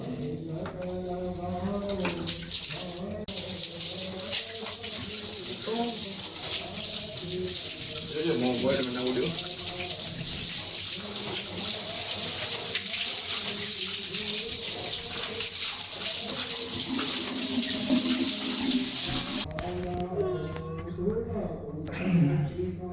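Water gushes from a broken tap, a loud continuous hiss that fills most of the span and then stops near the end, with people talking over it and before it starts.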